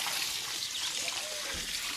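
Water from a watering can pours gently onto a garden bed, a soft continuous trickle and splash, quiet and steady throughout.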